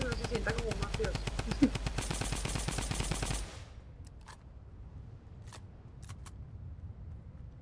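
Automatic gun firing in the Fortnite video game, a fast, loud rattling burst lasting a few seconds that stops abruptly, followed by quieter game ambience with a few scattered clicks.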